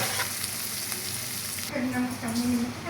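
Canned corned beef sizzles and crackles in a frying pan as it is stirred, a close, continuous hiss and spatter with soft scraping bursts from the utensil toward the end.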